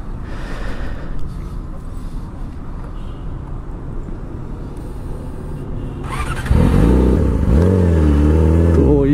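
A Yamaha R6 sport motorcycle rumbles at idle, then its engine rises into a loud, close revving pull with shifting pitch as the ride begins.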